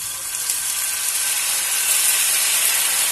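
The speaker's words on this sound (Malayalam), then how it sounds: "അപ്പോൾ നമുക്ക് ഇതിൽ കുറച്ച് പാൽ ഒഴിച്ചു കൊടുക്കാം." Steady bright hiss and sizzle of milk being poured into carrots cooking in hot melted ghee, continuous and fairly loud throughout with no talking.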